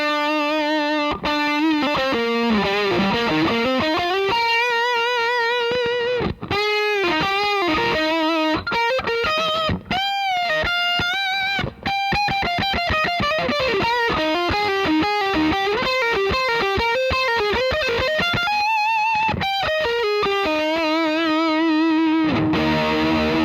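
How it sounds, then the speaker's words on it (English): High-gain electric guitar lead through an Orange CR60 amplifier, bass and treble slightly boosted and mids scooped for a soaring 80s tone; loud, sustained distorted melodic lines with bends and vibrato, played alone without talk. "I've cranked the gain up pretty good. I have the bass and treble boosted ever so slightly, and the mid scooped just a bit"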